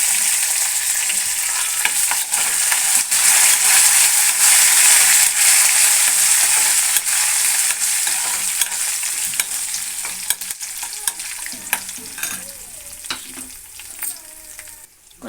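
Mustard seeds and cumin crackle and sizzle in hot oil for a pumpkin curry, a loud steady hiss that thins out toward the end as scattered pops and scraping stirs come through.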